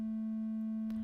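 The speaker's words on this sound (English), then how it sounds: "Like here, this triangle wave" A steady, smooth synthesizer triangle-wave drone holds one pitch, heard alone and fairly loud for about a second before cutting off.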